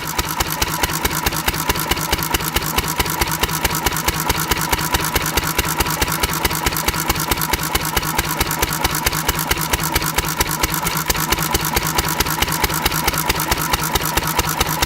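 A small engine running on pure SeaFoam fuel chugs steadily and loudly at close range, with a fast, even pulsing throughout and no talking.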